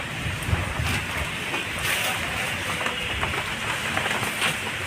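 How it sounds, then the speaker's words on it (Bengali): A strong outdoor storm with wind and rain makes a steady, loud broadband roar that fills the whole stretch without a break. "প্রচন্ড ঝড় উঠে গেছে।"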